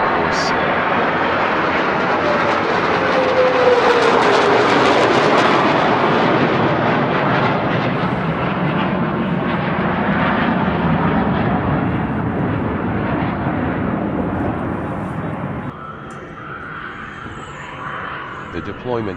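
An F-22 Raptor jet fighter flies past, a loud, broad roar that swells and holds for many seconds before easing into a quieter rumble near the end.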